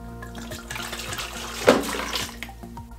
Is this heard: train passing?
no